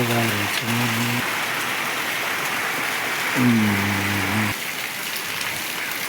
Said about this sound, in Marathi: दिवसभर पाऊस चालू आहे